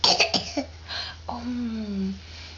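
A young child coughs a few times in quick bursts, close by, followed by a short voiced, sing-song vocal sound.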